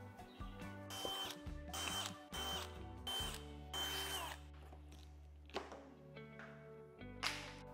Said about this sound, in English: For this, I found 11/64 drill bit is probably the best size to get those out.